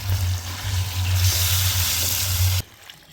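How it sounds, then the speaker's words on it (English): Rice is washed under running water. A loud, steady splashing stream with a low hum beneath it is cut off sharply near the end, leaving near silence. "just wash your rice 3 times"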